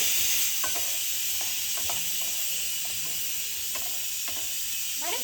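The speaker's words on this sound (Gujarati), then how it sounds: "ટોમેટો કેચઅપ બધું જ અનહેલ્ધી વસ્તુ અંદર નાખી મિક્સ કરીએ જવાને" Tomato ketchup being stirred into pasta in a hot pan: a soft steady sizzle runs throughout, with brief scraping stir strokes every second or so, close and moderately loud, no talking.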